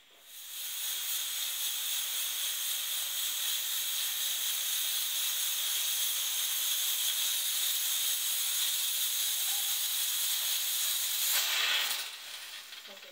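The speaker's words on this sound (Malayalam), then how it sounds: "കുക്കർ ഒരു വിസിലൂടെ കേൾപ്പിച്ച് ഓഫ് ചെയ്ത് വെച്ചിട്ടുണ്ട്" A pressure cooker whistle releases steam in a loud, sharp, continuous hiss lasting about eleven seconds, then abruptly drops away.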